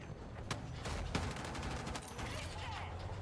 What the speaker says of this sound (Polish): Jakiś debil do mnie strzela.